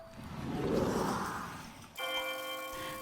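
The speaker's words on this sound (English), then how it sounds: "Ding dong, end of turn." An end-of-turn chime from a detective visual novel game, Death Trick: Double Blind, rings as a soft, steady, bell-like tone. It follows a faint, noisy swell and holds quietly to the end.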